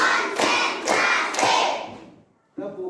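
A group clapping together in a counted rhythm: three loud, sharp claps about half a second apart with a roomy echo, a trailing pause, then another clap starts.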